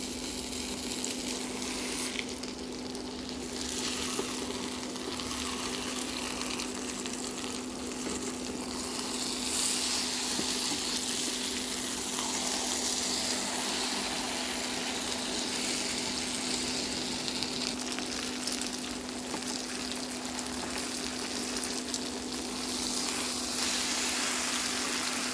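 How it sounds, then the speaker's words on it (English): An eggplant omelette crisps in a frying pan, giving a steady, even sizzle at moderate level with a constant low hum underneath throughout, no voices. "And fry it until it will become crispy also on the other side."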